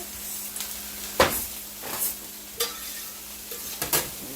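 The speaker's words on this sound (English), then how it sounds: "Get that stirred up real quick." Homemade egg roll filling being stirred in a pan, with a few distinct scraping strokes of a utensil over a soft, steady sizzle.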